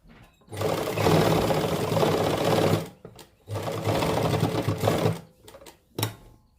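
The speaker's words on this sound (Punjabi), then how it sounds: "ਇੱਥੇ ਆਪਾਂ ਹਿੱਪ ਦੇ ਨਾਲ ਡਬਲ ਸਲਾਈ ਲਾ ਦਾਂਗੇ" Sewing machine running bursts of stitching as lace is attached along the hip and side seams of a suit, two long runs then a short burst, close and fairly loud with no talk.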